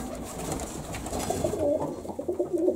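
Paired pigeons in a nesting compartment coo softly and repeatedly, low throaty calls rising over a dense, close background of other birds.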